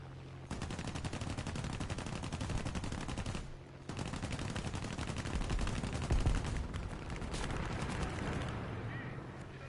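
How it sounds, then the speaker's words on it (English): Sustained gunfire in the War Thunder combat game, a dense, loud stream of rapid shots with a brief pause near the middle before the firing resumes, and a few heavier impacts partway through. "Someone's shooting at me."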